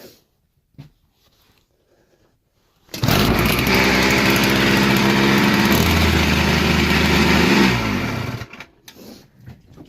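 After near silence, a small 80cc motorbike engine with a loose exhaust bursts to life and runs loud and ragged for about five seconds, pitch wavering, before cutting off.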